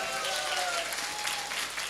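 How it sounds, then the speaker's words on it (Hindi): A crowd at a Lakhimpur function claps loudly for their mentors, a brief, full burst of applause with a faint tonal sound underneath. "मैं चाहता हूं इनके लिए एक बार जोरदार ताली हो जाए।"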